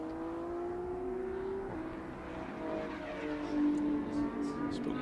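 GT race cars run on track during Indy 8 Hour qualifying, engines droning and shifting pitch as cars pass at moderate distance, fairly faint and continuous.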